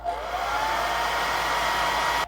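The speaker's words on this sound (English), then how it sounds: "I'm gonna hit it with the hairdryer." A handheld hairdryer blows over a wet watercolor meadow painting, giving a steady close whirring hiss with a faint whine that holds evenly before cutting off abruptly.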